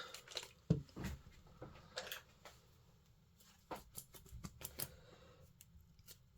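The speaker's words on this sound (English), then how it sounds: "So I'll spray some water on that." A spray bottle hisses in a series of short, quick bursts, some clustered together, close and fairly quiet, with soft handling noises between.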